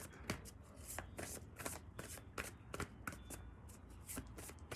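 Tarot cards shuffled and handled in a quiet room, a steady run of crisp riffling flicks and soft card slaps repeating every fraction of a second, close and alone with no talk.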